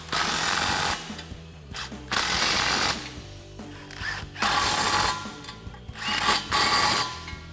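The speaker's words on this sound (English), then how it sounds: "take your 15mm socket and snug those up" A 15mm socket ratchet tightens the exhaust clamps on a 2024 to 2025 Mustang GT while a Pypes X-Bomb cat-back goes in. It gives loud bursts of rapid ratcheting clicks, each lasting about a second and separated by brief pauses, close by, with no talking.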